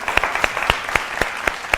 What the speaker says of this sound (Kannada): ಬರಲಿ ಸ್ವರ್ಗವಿ ಅವ್ರಿಗೊಂದು ಚಪ್ಪಾಳೆ